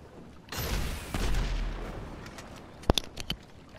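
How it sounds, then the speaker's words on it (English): A rocket launches toward a yacht in GTA 5 Online with a loud whooshing blast, followed by a run of sharp cracking impacts and pops, close and forceful. "Okay, send a rocket."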